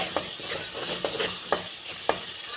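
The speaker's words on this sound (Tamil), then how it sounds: "அதையும் சேர்த்து நல்லா வதக்கிக்கோங்க. பச்சை வாசனை போகிற வரைக்கும் நல்லா வதக்கிக்கோங்க." Ginger garlic paste sautéing with tomatoes in a pan for mutton chops gravy, a steady soft sizzle broken by four sharp spatula scrapes and taps spaced about half a second apart, heard alone.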